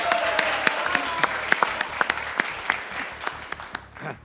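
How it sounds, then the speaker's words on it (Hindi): A studio audience at a cricket talk show claps, with loose, crisp individual claps standing out over a thin, steady patter that tapers off near the end. "तालियां बजाएं, वाह"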